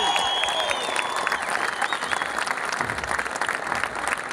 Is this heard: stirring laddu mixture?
no